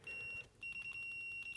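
A Brymen BM2257 multimeter gives steady, sharp continuity beeps in a quick run: one short tone, a brief gap, then a longer sustained tone with small flutters, close and clear, with no talking.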